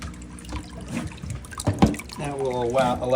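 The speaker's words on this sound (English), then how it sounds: "your dirty water to come out of your fish tank" Dirty water drains from a 50-gallon fish tank through an opened valve, trickling and splashing steadily while someone talks over it.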